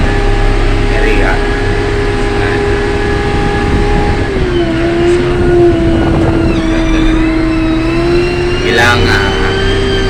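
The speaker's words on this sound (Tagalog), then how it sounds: "nagdadrive po ako ng motor grader" A motor grader's engine drones steadily while the machine drives along a road, loud and close, with a sustained tone that dips slightly in pitch midway; someone speaks briefly over the engine noise.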